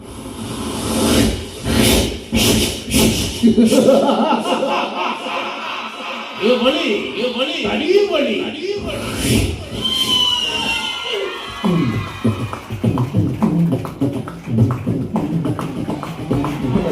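A man imitates a horse with his voice on stage at a live comedy show, producing whinnies and galloping clicks. A crowd laughs, cheers and shouts throughout.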